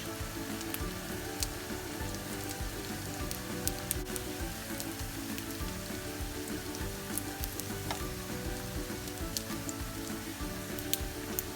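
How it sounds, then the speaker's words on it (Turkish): Bulgur köfte fry gently in a shallow layer of oil, giving a steady, even sizzle with scattered small crackles and pops that run on without a break. "Yavaş yavaş kızarmaya başladı"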